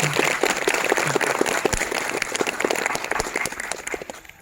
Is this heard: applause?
yes